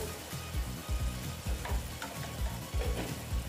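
Hot oil sizzling in a pan of kankrol curry, a steady crackling fry with rhythmic stirring scrapes, close and fairly quiet.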